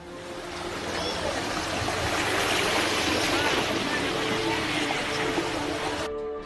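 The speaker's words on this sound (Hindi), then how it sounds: "अररिया में बकरा नदी के उफान मारते ही निचले इलाकों में बसे गांव पानी से लबालब भर गए" Flood water from the swollen Bakra river in Araria, Bihar, pours across low-lying villages as a loud, steady broadband rush and roar that barely changes, then cuts off abruptly at the end.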